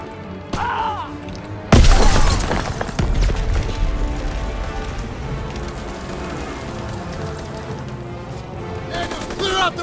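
A grenade explodes with a sharp, loud blast in Call of Duty's WWII Rhine 1945 battle, followed by rumbling debris, scattered gunfire and a shouted voice amid the continuing combat.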